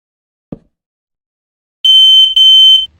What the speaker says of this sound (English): and a smoke detector.